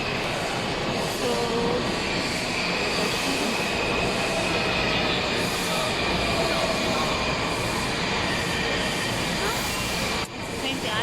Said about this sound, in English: it's a train behind me, and that's not my train, so mine's gonna come in front